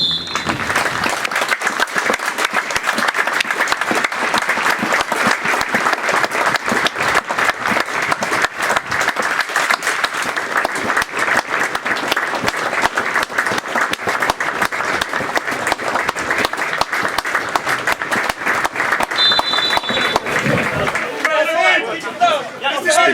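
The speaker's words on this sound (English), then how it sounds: "Let us remember them with the applause they deserve from all of you." A football crowd at an AFC Rushden & Diamonds versus Coventry Sphinx match gives sustained, loud applause in remembrance, a continuous wash of clapping with faint crowd chatter mixed in throughout.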